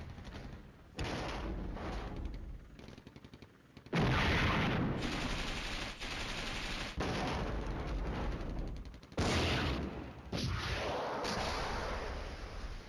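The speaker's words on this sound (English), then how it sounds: "the mortars are going to hit them" Mortar fire in the Flashpoint Campaigns wargame, loud sustained blasts of explosive rumble in several long bursts separated by brief drops, dense and booming throughout.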